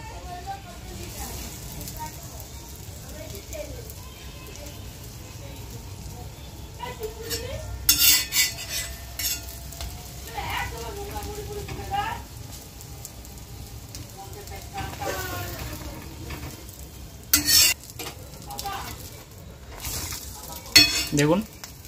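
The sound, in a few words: egg paratha frying in oil in a pan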